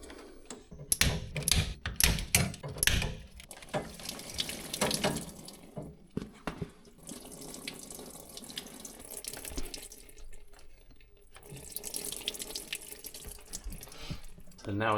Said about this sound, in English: So now the main heat exchange is draining into the bucket.